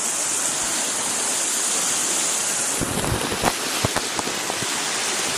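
Strong floodwater rushes past in a steady, loud roar, with a few sharper splashes and knocks breaking through toward the end.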